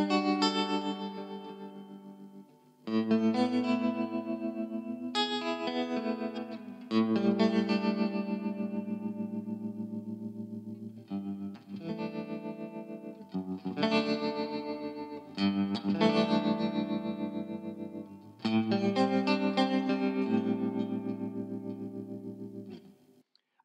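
Electric guitar played through an Orange Tremlord amplifier with tremolo at fast speed, chords and notes pulsing quickly in volume over sustained ringing, several strummed phrases separated by brief gaps, loud and close with no talk.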